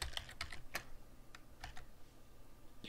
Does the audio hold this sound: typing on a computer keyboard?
yes